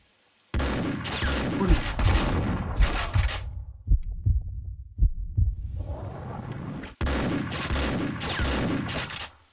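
Rapid bursts of gunfire aimed at the player in Max Payne 2, loud dense fusillades with a short lull of scattered single shots in the middle, then another heavy burst.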